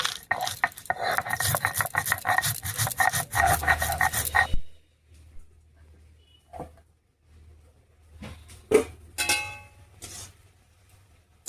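Black mustard seeds and green chillies are ground together in dense, rough scraping and rubbing for about four seconds. Softer, scattered scrapes and knocks follow against a quiet background.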